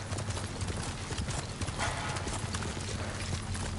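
Rapid rhythmic hoofbeats of a galloping horse in the video game Ghost of Tsushima, moderately close and steady over a dense background rumble.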